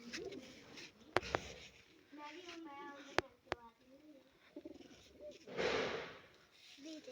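Soft pigeon cooing and rustling nearby, with someone talking over it and a few sharp clicks in between.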